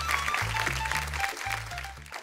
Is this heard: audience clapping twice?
yes